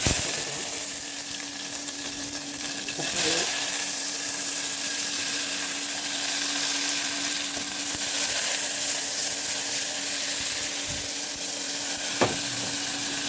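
Small onions hit hot oil already holding fried cinnamon and cloves for a Tamil chicken dish, giving a steady, close sizzle that runs unbroken for the whole stretch, with a couple of soft clicks near the end.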